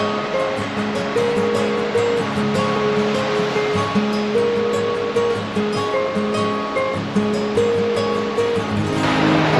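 Ocean waves rolling in with the incoming tide at Long Beach, Washington: a steady, loud wash of surf with repeated surges, heard close, with faint tonal sounds in the background.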